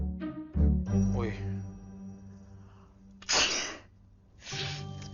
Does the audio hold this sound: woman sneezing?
yes